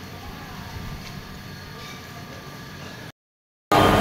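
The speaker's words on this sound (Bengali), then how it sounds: "এই যে আমার ট্রেন প্ল্যাটফর্ম নাম্বার 19-এ দিয়ে দিয়েছে" The Howrah–Ranchi Intercity Express (18627) stands at platform 19 of a busy station, with a steady low rumble and hiss that breaks off briefly before returning louder.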